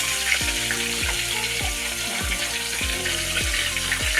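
Salted fish frying in a pan, a steady loud sizzle and crackle of hot oil running throughout with faint background noises, no talk.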